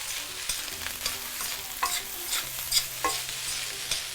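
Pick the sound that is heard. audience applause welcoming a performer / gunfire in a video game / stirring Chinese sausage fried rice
stirring Chinese sausage fried rice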